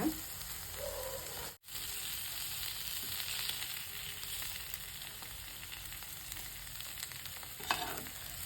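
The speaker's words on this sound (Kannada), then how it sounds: "ನೋಡಿ ಮಸಾಲೆ ಎಲ್ಲ ನೀಟಾಗಿ ತುಪ್ಪದಲ್ಲೇ ಕುಕ್ ಆಗಿದೆ." Masala frying in ghee for paneer ghee roast, a steady close sizzle with faint stirring, briefly cutting out once before carrying on without any talk.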